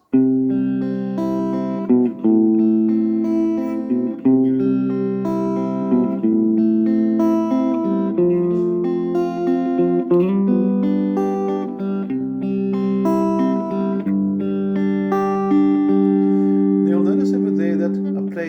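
Plucked acoustic guitar notes ring out in a flowing fingerpicked pattern, chords and melody interwoven, clear and close.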